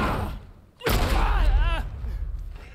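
A single loud pistol gunshot from The Last of Us, an abrupt burst after a quieter stretch of game audio, followed by a sustained rumbling tail with a voice over it.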